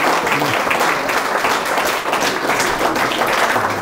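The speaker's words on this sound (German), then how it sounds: "An dem Beifall sieht man ja schon," Crowd applause fills the hall at a political speech event in Amberg, a dense, steady wash of many hands clapping loudly throughout with no voices over it.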